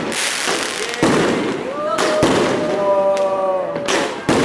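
Fireworks exploding at a New Year celebration, loud sharp bangs and thumps at irregular intervals, with whistling tones and crowd voices underneath.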